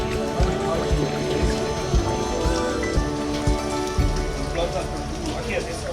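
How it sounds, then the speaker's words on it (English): Steady rain patters on a surface, a dense constant wash with occasional heavier drops and low rumbling underneath, with no voices. "The rain came."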